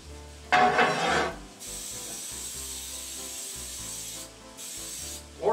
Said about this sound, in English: I'm using coconut cooking spray today.